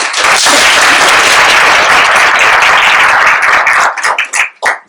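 Audience at a PHRA Academy conference applauding to welcome speaker Dave Baker, a loud, dense burst of clapping that holds steady, then thins into a few scattered final claps.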